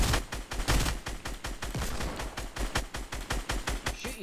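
Rapid bursts of automatic gunfire in a squads battle royale video game, sharp repeated shots in quick rhythmic volleys, loud and close with no talk over them.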